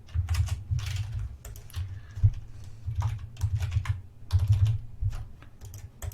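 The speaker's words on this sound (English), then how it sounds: "put in some test credit card details." Fingers typing test credit card details on a computer keyboard, quick irregular clusters of soft key clicks with brief pauses between bursts, close and alone.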